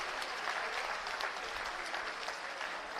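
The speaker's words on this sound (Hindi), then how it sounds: "एक बार सभी हाथ ऊपर करके जोरदार तालियों से अभिनंदन करें" Enthusiastic audience applause at a Delhi government school inauguration, a continuous crackling wash of many hands clapping, moderately close and steady with no one speaking over it.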